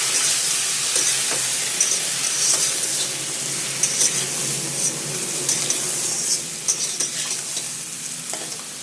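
Potatoes and fish curry with bottle gourd frying in a pan while being stirred, a steady close sizzle and hiss with scraping stir strokes throughout, no voices.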